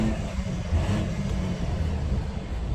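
A truck engine hums and builds as the vehicle pulls forward and accelerates, a steady, fairly close low drone with no talk.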